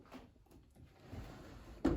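A wooden drawer is pulled open in a room holding altar linens, with a low shuffling rumble leading into a single sharp, close clunk at the end.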